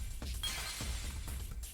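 Tiles shatter in a video game minigame, with several crisp breaking crashes in quick succession over a low, busy background.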